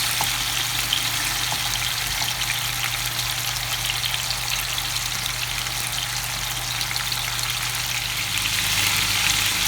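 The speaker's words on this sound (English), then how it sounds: "And let it fry the other side too for a few seconds." Tandoori chicken pieces frying in a pan, a steady, close crackling sizzle that holds evenly throughout with no talk over it.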